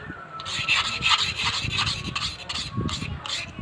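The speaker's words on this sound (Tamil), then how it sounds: "ஒரு ஐடியா பண்ணலாம், இதை தேய்ச்சிடலாம்." A rounded-off metal nut with worn edges is rubbed down to restore its shape, producing a continuous close rasping scrape in rhythmic back-and-forth strokes.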